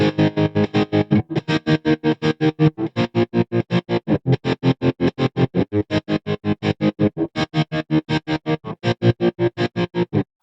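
Distorted electric guitar chords chopped by a fast, even tremolo effect, set up in Bitwig and Ableton, pulsing loudly and steadily for about ten seconds with no voices.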